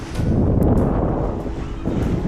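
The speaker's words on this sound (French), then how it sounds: "Le vent est revenu" Strong wind buffets the microphone in a continuous low roar at sea in the Pacific near San Benedicto Island, with gusty rumbling and a faint hiss of open water.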